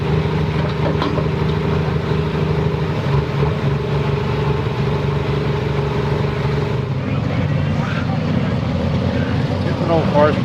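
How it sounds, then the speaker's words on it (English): An old forest tractor idles with a steady low, throbbing drone and a few tonal hums, the engine note shifting slightly partway through; no speech is heard over it. "It's an old forest tractor."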